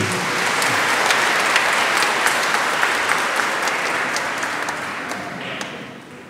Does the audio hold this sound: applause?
yes